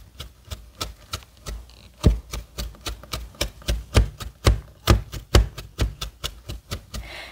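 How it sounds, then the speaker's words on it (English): A kitchen knife chops fresh herbs on a cutting board in a steady run of crisp, close knocks, roughly three per second, growing firmer partway through with no talk. "When you start to chop fresh herbs, oh my goodness, does it smell good?"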